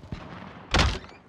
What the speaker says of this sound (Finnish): Nyt on ovet kiinni.